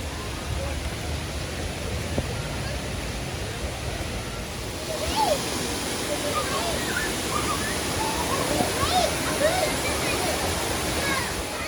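Waterfall in Antalya, a steady broadband rush of falling water that fills the whole clip, growing slightly brighter and louder midway as the listener moves closer, with no voices.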